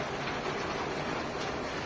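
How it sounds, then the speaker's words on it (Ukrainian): Steady rain falling outdoors during a hot summer spell, a dense continuous hiss of drops without thunder, even in level across the short stretch. "Дощик нарешті пішов."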